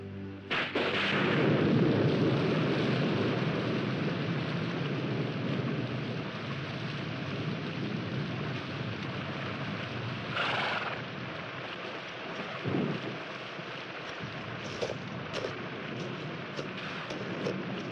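Steady heavy rain hiss with a sharp thunderclap at the start and further rumbles and cracks later, loud and continuous throughout.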